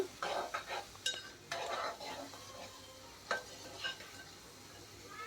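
Onions fry in a pan for a drumstick and tomato curry, a soft steady sizzle broken by scraping stirs of a spoon against the pan, close and fairly quiet.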